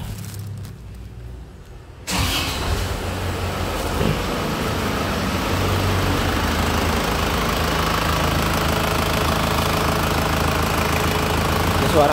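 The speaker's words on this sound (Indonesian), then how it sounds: "Ini suara mesinnya lur ya." A 2002 Panther LS car engine fires up abruptly after a quiet moment, then settles into a steady, close, rumbling idle with a faint rhythmic knock.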